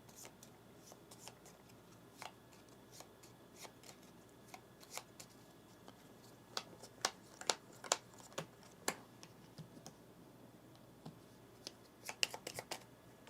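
Aeon's End playing cards being shuffled on a table, a soft papery bed broken by a run of crisp riffling snaps and flicks that bunch up toward the middle and end, close and fairly quiet with no talk.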